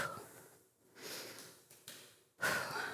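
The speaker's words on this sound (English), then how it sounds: "Inhale, exhale." Breathing in and out during a seated twisting core exercise, with steady audible inhales and a stronger, sharper exhale near the end, close and clear without talk.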